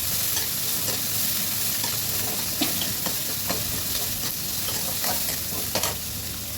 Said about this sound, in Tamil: கடுகு பொரிஞ்சிட்டு இப்போ வெங்காயம் சேர்த்துக்கலாம்.